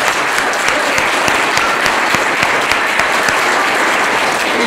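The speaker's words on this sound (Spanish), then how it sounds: "Víctor y Jessica, les damos un fuerte aplauso a los nuevos" A wedding crowd applauds the newlyweds steadily and loudly, dense clapping continuing throughout without pause.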